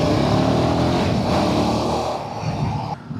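Dense Bangalore street traffic rumbles around a motorcycle rider, a steady loud wash of engines and road noise from cars, buses and scooters, easing slightly toward the end, with no voices.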